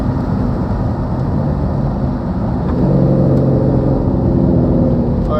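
A C5 Corvette Z06 runs on a chassis dyno during back-to-back pulls, and the car is hot. A loud, close engine drone climbs into a stronger, rising roar partway through as the revs build, with no voices.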